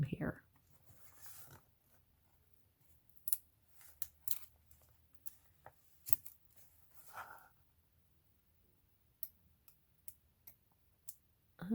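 Paper and washi tape trimmed for a journal, scattered soft snips and clicks with small rustles, quiet and close, spread out over several seconds.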